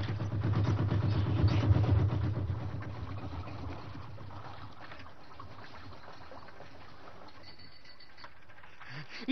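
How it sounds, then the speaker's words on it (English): Struggling, oil-leaking boat engine in an animated canal show chugs roughly and loudly at first, then fades to a weaker, sputtering idle over faint background noise. "Don't like the sound of that engine, Fairport."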